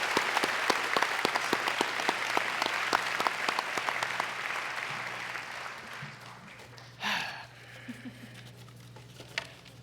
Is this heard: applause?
yes